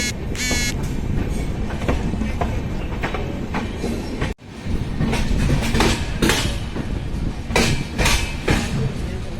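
Kota Katra Express passenger train rolling into Rohtak Junction station, a steady loud rumble of wheels with rhythmic clickety-clack over rail joints and brief metallic squeals, continuous throughout with a momentary dip midway.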